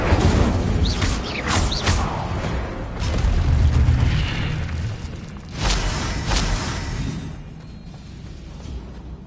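Incendio fire spell cast in the video game Hogwarts Legacy, a few loud whooshing bursts and booming blasts of flame over a rumbling background, no speech.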